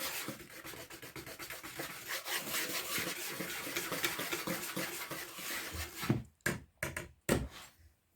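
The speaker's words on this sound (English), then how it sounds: "I'm just going to whisk that in." Scone ingredients whisked together in a bowl: a steady, rapid scratchy rubbing that runs for about six seconds, then a few sharp separate knocks or taps near the end.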